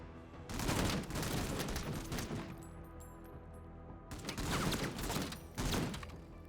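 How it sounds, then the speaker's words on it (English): Sustained heavy gunfire and bursts from a turn-based strategy video game, loud dense volleys that ease briefly and then return with renewed intensity, with no voices. "Still under heavy fire."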